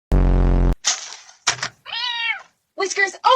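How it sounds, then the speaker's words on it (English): A cat gives a few short, close meows in quick succession, with other brief sounds in the gaps. "Easy, he's just a cat."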